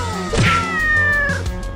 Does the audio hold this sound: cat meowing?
yes